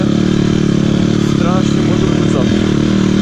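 A YCF 150 Classic pit bike engine runs with a loud, steady droning rumble that fills the whole clip, while a voice speaks faintly beneath it.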